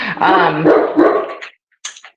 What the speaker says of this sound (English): Oh, gosh, of course, there's my dogs.